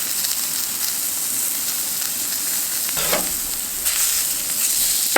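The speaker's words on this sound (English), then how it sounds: "So now the trick to doing hash browns is to let them sit." Hash browns frying in a pan over a campfire outdoors, a steady dense sizzle and crackle that continues throughout with a brief louder burst of spitting midway, nobody talking.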